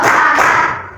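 A sixth-grade class of children claps hands together in a classroom, one short, loud burst of massed clapping that fades quickly.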